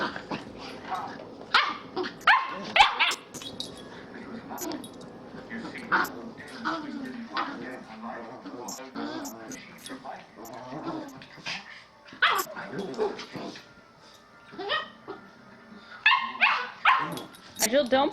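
A dog barks, yips and whimpers on and off at close range with a second dog nearby, mixed in with ongoing talk and household noise.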